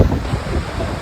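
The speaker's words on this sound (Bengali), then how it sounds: "খাপ সঙ্গমে কি হাওয়া এখানে, ও ভাই কি হাওয়া" Strong wind at the Khab confluence of the Sutlej and Spiti rivers in Kinnaur buffets the microphone in a loud, continuous roaring rush for about a second, with no voices.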